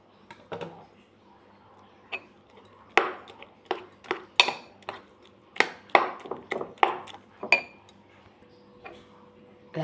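Noodle seasoning being mashed in a bowl with a metal utensil, producing irregular sharp clinks and taps of cutlery against dishware that come in quick clusters, close and fairly quiet.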